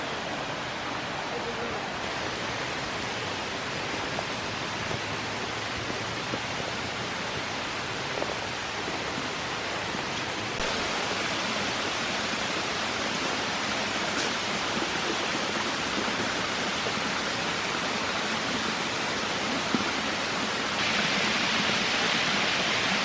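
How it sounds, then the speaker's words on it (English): Small waterfalls trickle down a rock wall beside abandoned farmhouse ruins, producing a steady, even wash of falling water that stays fairly loud and continuous throughout. "So this whole wall behind us is like waterfalls that are like trickling down."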